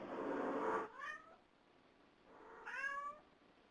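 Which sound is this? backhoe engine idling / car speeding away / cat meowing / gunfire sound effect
cat meowing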